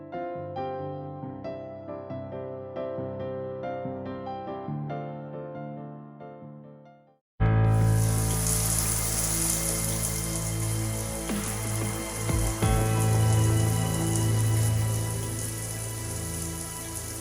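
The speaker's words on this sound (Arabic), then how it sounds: "حلت الدش بالعالي وخلت الماء يمشي" Shower running at full blast, a loud, steady broadband rush of water that cuts in abruptly after a stretch of music and continues alone to the end.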